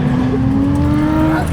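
A Mazda RX-7 FD drifting at Pocono Raceway gives a loud, close, sustained engine drone with a steady pitch throughout the short burst.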